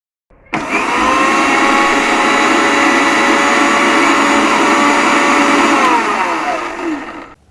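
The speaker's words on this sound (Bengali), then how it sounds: "এই সব উপকরণগুলোকে ব্লেন্ড করে নিব" An electric blender whirs loud and steady for about seven seconds, grinding spices, salt and sour mango pickle into a grilled-chicken marinade, starting abruptly and then winding down at the end.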